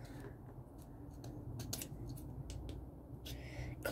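Scissors snipping through something to cut it open, a handful of short crisp cuts heard up close over a low steady background.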